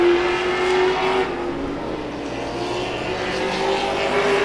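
Sportsman-class race cars in a feature race at Tomah-Sparta Speedway, a steady, moderately distant engine drone that swells and fades slightly as the pack circles, with no talk over it.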